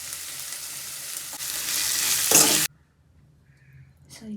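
Cooked masala rice is stirred and mixed in a pan with a steady scraping, faintly sizzling rustle that stops abruptly partway through, leaving near silence.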